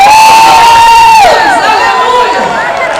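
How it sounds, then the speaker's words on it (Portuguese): A church congregation cheers and shouts loudly, voices rising into a sustained whooping roar that tapers slightly toward the end. "Então você pode aplaudir e gritar"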